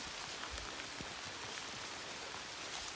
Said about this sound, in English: Still raining quite a bit.